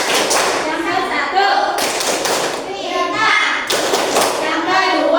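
A class of fifth-grade children claps the rhythmic Tepuk Pancasila routine in a classroom, sharp hand claps in counted bursts between chanted lines, with kids' voices and a teacher speaking throughout.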